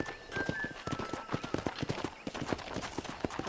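Steady rhythmic clip-clop of horse hooves in the video game Red Dead Redemption, a quick even trot with a thin electronic tone in the background.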